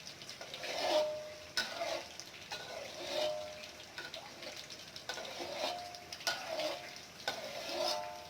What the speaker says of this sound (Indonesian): tahu bulat digoreng 10-15 menit sambil diaduk-aduk hingga tahu bulat mengembang secara sempurna